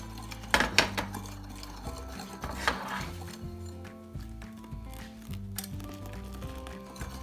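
Eggs are tempered in a bowl by whisking in milk gradually for a pastry cream, a soft scraping and tapping of the whisk against the bowl with a few sharper clinks, quiet and close.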